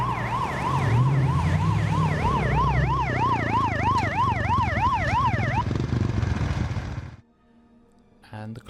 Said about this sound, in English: so where do we hear a siren?